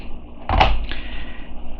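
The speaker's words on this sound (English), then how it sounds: "Opening door." A door on a toy car model being opened, a short sharp click and clack up close, followed by a second lighter tick, over a faint background hum.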